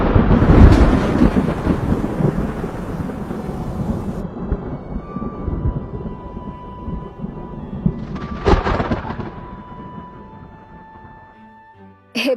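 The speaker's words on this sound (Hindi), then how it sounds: "तभी बहुत तेज बिजली कड़कने की आवाज आती है।" Loud thunder crashes during a stormy scene in a Hindi-dubbed Doraemon cartoon episode, a booming roll that fades over several seconds before a second sharp crack near the end, with no talking.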